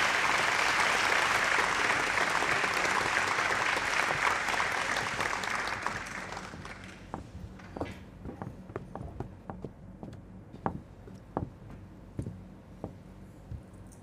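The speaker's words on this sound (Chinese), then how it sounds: "掌声有请。" A banquet audience at a company's 40th-anniversary dinner bursts into full, loud applause that fades after about six seconds into scattered, sharp individual claps.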